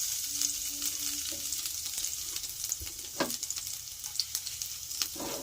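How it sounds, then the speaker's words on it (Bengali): Chopped garlic sizzles steadily in hot oil left over from frying chicken. The even, close frying hiss runs throughout, broken by occasional clinks and scrapes of stirring, with no voices. "মাংস ভাজা তেলের মধ্যে দিয়ে দেব কুচানো রসুনগুলো"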